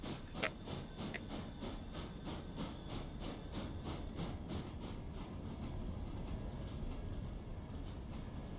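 A train rolling along in the railway game Railroader, with a steady rumble, rhythmic clickety-clack of wheels over rail joints and a faint hiss, heard at moderate distance and without talk.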